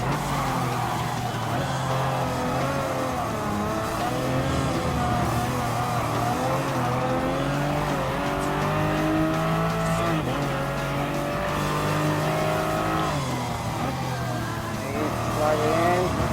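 Race cars, including a Porsche 911, lapping in Gran Turismo Sport, engines droning and shifting pitch continuously with occasional tire squeal, under steady talk.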